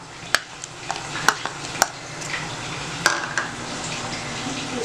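Beans, calabresa sausage and onion cook in a pan for tutu de feijão: sharp, scattered spoon taps and scrapes ring out over a soft, constant sizzle.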